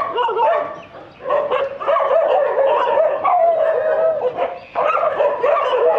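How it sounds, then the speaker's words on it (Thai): Stray dogs at a dog care island in Nakhon Pathom, Thailand, barking and yipping near and loud at visitors, with a steady overlapping run of barks and whimpers through the whole stretch. "หมาที่นี่เนี่ยจะส่งเสียงเห่าเนี่ยต้อนรับผู้คนที่มาเยือนเนี่ยกันเป็นปกติ"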